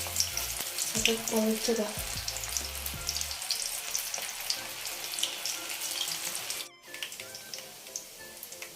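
Spinach and onion pakodi fry in hot oil over a medium flame, a dense crackling sizzle with a few splashy pops early and one brief break, while a person speaks briefly.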